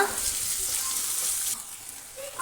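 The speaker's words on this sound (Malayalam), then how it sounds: "ഇനി ഇതിലേക്ക് ഒരു 1/2 ടീസ്പൂൺ ഉപ്പ് കൂടെ ചേർത്ത് കൊടുത്തിട്ട് നന്നായി ഒന്ന് വഴറ്റിയെടുക്കുക" Onions sautéing in a pan with half a teaspoon of salt for a restaurant-style chicken chukka, giving a steady close sizzle with faint stirring and no talk.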